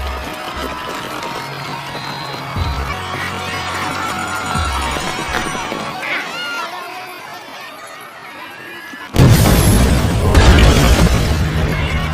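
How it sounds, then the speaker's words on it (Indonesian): A bomb blast in a crowd of spectators at a marathon finish line in the film Stronger. Crowd murmur and a low drone lead up to a sudden loud boom with lingering roar near the end. "terjadi dua ledakan bom di tengah kerumunan penonton di garis finish"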